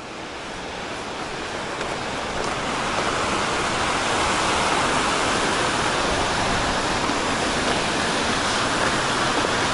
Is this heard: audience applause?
no